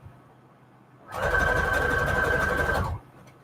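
A sewing machine whirs into steady, rapid stitching for about two seconds, loud and close, then stops abruptly.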